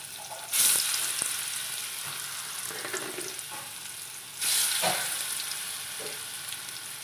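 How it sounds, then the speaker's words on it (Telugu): Marinated fish pieces frying in hot oil for a Konaseema fish fry give a faint, steady sizzle, with two louder surges of spattering hiss as the pieces go in, and no voices. "ఎలా ఫ్రై అవుతున్నాయో ఫిష్ పీసెస్."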